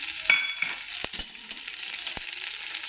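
Carrots being stirred into garlic paste in a pan, with a soft sizzle underneath and a few sharp scraping clacks of a spoon against the pan, close and moderately loud.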